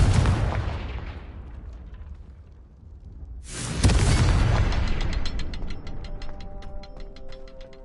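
Confringo spell explosions go off in the video game Hogwarts Legacy, two loud booming blasts that each decay slowly, the second followed by ringing, rattling mechanical clicks.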